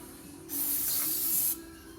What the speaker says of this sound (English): Gonna spray off the rest of this stuff.